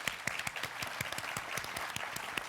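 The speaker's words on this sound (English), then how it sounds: "Round of applause from Ms." Steady audience applause at the 2010 Dole Leadership Prize ceremony honoring the Women Air Service Pilots, with rapid, even clapping from a crowd and a few closer, rhythmic claps running throughout.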